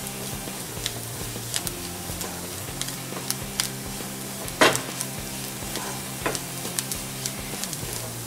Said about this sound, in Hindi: अभी हम इसमें ये जो 1 टेबलस्पून हमने मैदा लिया है वो ऐड करेंगे और इसे मैदे के साथ पे भून लेंगे।